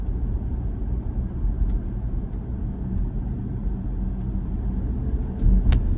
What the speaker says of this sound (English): you're hearing the little 2-liter turbo 4-cylinder go to work